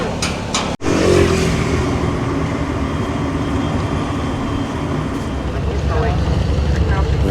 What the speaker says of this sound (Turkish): Bunlar bu adanın taksileri dostlar